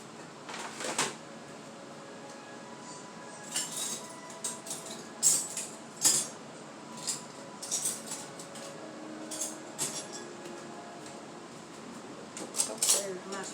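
Cheesy beef and veggie macaroni is dished from a skillet onto a plate with a spoon: scattered clinks, scrapes and knocks come up through a quiet room while a person talks intermittently.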